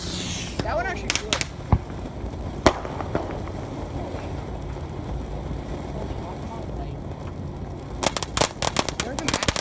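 Fireworks going off during an outing in Saint Louis, with scattered sharp pops and crackles, a louder cluster of bursts near the end, over steady background noise and some distant chatter.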